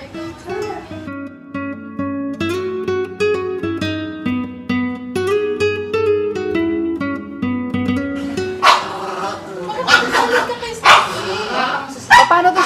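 Several pet dogs bark, yip and whimper near the microphone while a Christmas Eve photoshoot goes on around them. Busy music plays throughout, and a louder burst of sharp barks comes near the end.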